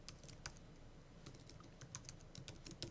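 A file name is typed on a computer keyboard, quiet scattered key clicks in an irregular rhythm, close and faint, with no voices.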